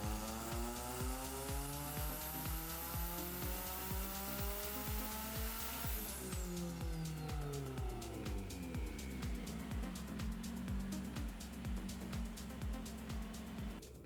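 A turbocharged Nissan X-Trail engine screams on a dyno at 25 psi boost, climbing steadily in pitch to a peak, then dropping back as revs fall, with a loud, buzzy, continuous drone throughout.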